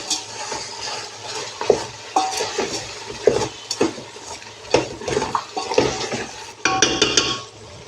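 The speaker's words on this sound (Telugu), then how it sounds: "కొత్తిమీర అండ్ పుదీనా మొత్తం కూడా ఈ విధంగా కలిపేసేసుకోవాలి" Coriander and mint are stirred into a pot of home-style Guntur Subhani biryani. A utensil scrapes and clinks irregularly against the pot over a soft sizzle, with no talking.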